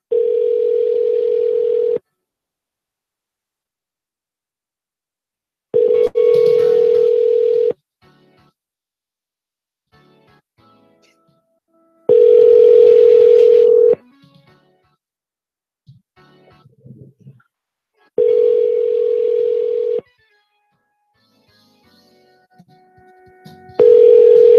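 Telephone call-back cycles through loud steady ringing tones in roughly two-second bursts separated by silences, with faint dialing clicks and small noises in the gaps.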